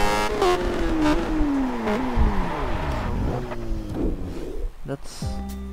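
A motorbike engine revs and shifts while riding on Hawaii Island in the video game Test Drive, pitch climbing then dropping with gear changes, loud and close, with a voice talking over it.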